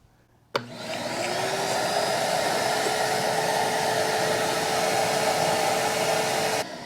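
A vacuum cleaner starts abruptly and runs at a steady, loud whine with a rushing airflow, sucking debris out of the inside of a seized engine, then cuts off near the end.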